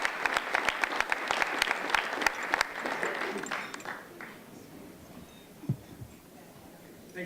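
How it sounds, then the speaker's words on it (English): A room of guests at a community volunteer awards evening gives a round of applause for an event sponsor. The dense, steady clapping is fairly close, then thins out and fades after a few seconds, leaving quiet room tone. "So please give them a huge round of applause for that remarkable contribution to our community."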